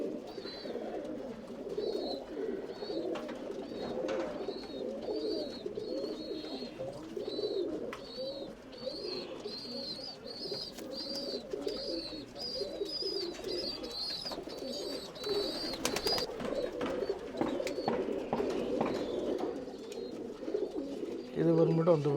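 Tumbler pigeons in a loft coo continuously, soft repeated rolling calls layered over one another at moderate distance, with faint rustling and occasional higher chirps.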